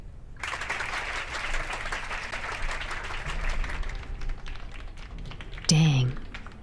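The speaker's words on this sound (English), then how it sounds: "A round of applause, everyone." Applause in the PC game Still Joking: a crowd claps in a dense, steady patter for about five seconds and then fades, followed by a brief tonal game sound.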